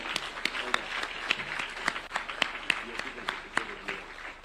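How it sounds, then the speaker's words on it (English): An audience claps, fairly faint and somewhat sparse, with individual claps standing out in an uneven rhythm. "can we give a round of applause to the future of Kenya?"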